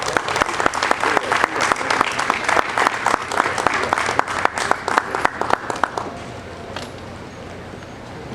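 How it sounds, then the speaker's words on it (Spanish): Audience applause greeting invited guests at a university literary event, a dense, steady crowd clapping that holds loud for about six seconds, then thins to a few scattered claps. "A continuación vamos a recibir con fuertes palmas a nuestros invitados."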